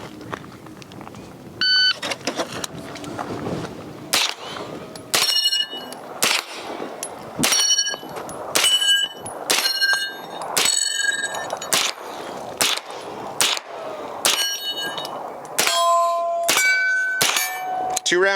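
9mm rounds from a SAINT Victor pistol-caliber carbine strike large steel targets at a shooting course, producing about a dozen sharp metallic clangs with bright ringing tails, spaced unevenly in a steady string of hits.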